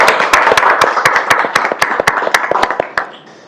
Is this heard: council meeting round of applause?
yes